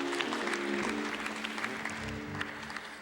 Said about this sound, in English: Give a round of applause to Shari Summers.